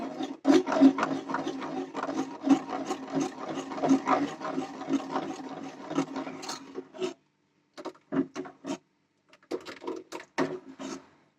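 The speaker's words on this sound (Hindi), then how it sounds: "इस तरह से हल्के हल्के हाथ से धीरे धीरे इसको इस तरह से चलाते रहेंगे ताकि ये नीचे में जले नहीं" Ghee being made from malai is stirred slowly in a pot, giving close, rhythmic scraping and rubbing strokes, continuous at first, then coming in shorter separate bursts with brief pauses.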